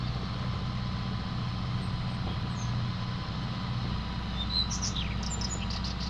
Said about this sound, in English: bird sounds on this are amazing